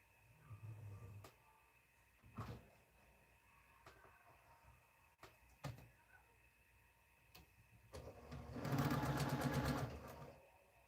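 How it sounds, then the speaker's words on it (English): A sewing machine stitches two quilt pieces together along the long side, starting with a few scattered clicks and handling noises and then a steady, rapid mechanical whir of stitching for about two seconds near the end. "I'm going to take the 2 in the middle and sew those together on the long side."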